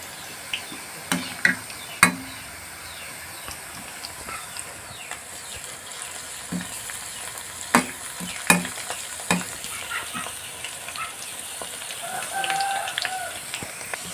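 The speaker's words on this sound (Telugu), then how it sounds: "ఇప్పుడు మనం ఒక కరివేపాకు రెల్ల కూడా వేసుకుందామండి." Curry leaves fry in hot oil for meal maker pakodi, giving a steady crackling sizzle broken by scattered clinks and scrapes of a ladle against the pan, close and moderately loud, with no talking.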